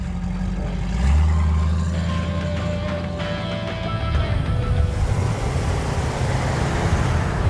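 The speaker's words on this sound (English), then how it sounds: "as legendary muscle car engines go, the 428 Cobra is really the smooth operator" A Ford muscle car with a 428 Cobra Jet V8 runs smoothly nearby, its deep, steady rumble briefly swelling early on and then settling into an even drone.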